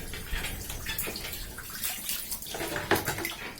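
Tap water runs in a steady, close rush while someone washes their face, with small splashes and a few drips; no talking.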